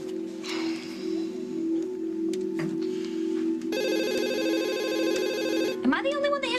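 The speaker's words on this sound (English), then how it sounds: "Am I the only one that hears the phone around here?" A telephone rings in a bright, continuous electronic trill indoors, preceded by a low steady hum and quiet background noise, before a voice breaks in at the end.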